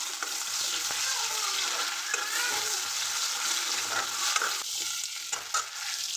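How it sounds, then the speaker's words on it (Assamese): Onions frying in hot oil in a pan make a steady, close sizzle, with scraping and clinking of a stirring spoon now and then. "এতিয়া পিঁয়াজখিনি অকণমান সময় ভাজ খাবলৈ দিম"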